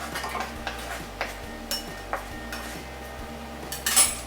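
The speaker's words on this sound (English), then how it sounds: "Now I'm gonna add all my veggies to one bowl." Cut vegetables dropped into a bowl in a home kitchen: a run of light clinks and soft thuds, spaced irregularly, ending in a louder clatter near the end, with no talking.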